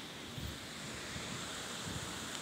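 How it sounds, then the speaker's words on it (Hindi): Water running steadily through a canal beside a historic sundial clock in a village, a continuous broadband rush with low rumbling surges, mixed with wind buffeting the microphone outdoors. "ये देखिए, पानी जा रहा है।"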